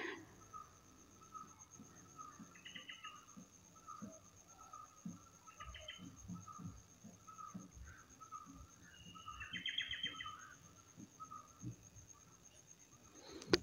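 Birds chirp outdoors near a village hamlet at Pandur, in brief high bursts a few seconds apart, faint and fairly distant over a steady insect-like background hum.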